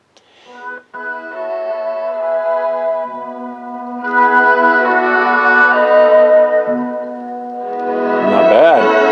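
Music plays from a Retrolife R512 all-in-one record player, a sustained tonal track with steady harmonic lines that swells louder partway through, heard continuously without talk.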